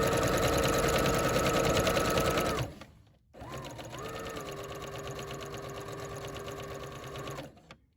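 Home sewing machine stitching the side seam of a coat: a close, loud, steady motor whir runs about 2.5 seconds, stops briefly, then restarts at a slightly shifting pitch for four more seconds before cutting off.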